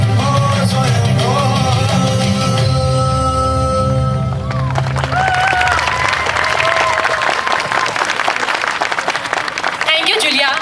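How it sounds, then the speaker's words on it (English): Loud, dense applause from a concert audience after a devotional song performance, filling the whole stretch as a steady roar of many hands, with a voice briefly audible near the end. "A huge round of applause for Julia once again"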